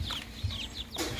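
Baby chicks cheeping and clucking softly nearby, a few short calls over a brief stretch with background noise.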